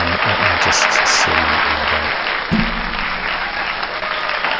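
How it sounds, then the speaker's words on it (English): A crowd applause sound effect plays from an iPad: dense, steady clapping fills the whole stretch at a loud, even level, with faint murmuring underneath. "Can you hear applause?"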